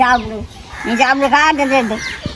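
Hens at a home in Jaffna cluck loudly and close by, giving drawn-out, wavering calls that rise and fall across a couple of seconds, with voices mixed in.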